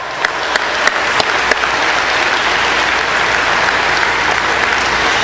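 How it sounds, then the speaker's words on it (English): A large graduation audience in an auditorium bursts into sustained applause, a broad, even roar of clapping with a few sharp claps near the start. "Take for yourselves a wonderful and deserved round of applause."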